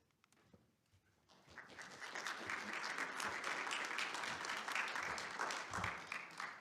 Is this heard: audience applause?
yes